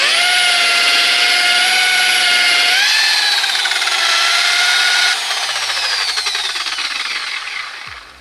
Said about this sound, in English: you want to put your buffer on there and then start it up